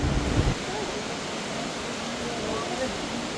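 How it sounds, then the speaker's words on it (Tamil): A 300-foot waterfall in Kolli Hills roars as a dense, constant rush of falling water, close and loud, with a brief voice at the very start. "அருவிக்கிட்ட நீங்கள் நெருங்கி போக போக உங்களுக்கு அந்த சத்தம் வந்து அற்புதமாக கேட்குங்க"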